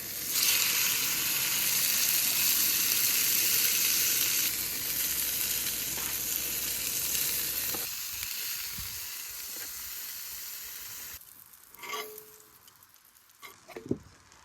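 Fish frying over a fire at an island campsite, a loud steady sizzle that fills the first half, then fades and thins out, leaving softer crackles and a few scraping knocks near the end.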